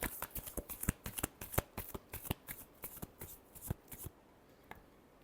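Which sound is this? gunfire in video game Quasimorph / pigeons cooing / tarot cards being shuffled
tarot cards being shuffled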